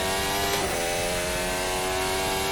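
Formula Hybrid 2022 F1 car engine in Assetto Corsa, a high steady whine of a revving hybrid power unit held near constant pitch with a brief shift, loud and close with no talking.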